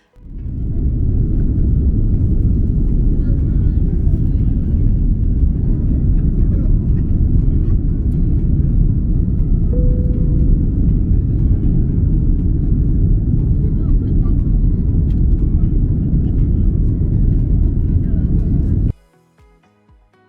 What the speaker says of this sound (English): Our flight took off later than scheduled.